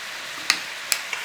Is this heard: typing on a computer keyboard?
no